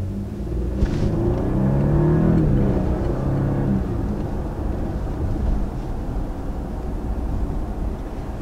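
A 2019 Audi Q8 or BMW X7 luxury SUV pulls away from a stop, its engine rising into a deep, steady rumble heard from inside the cabin with no talking.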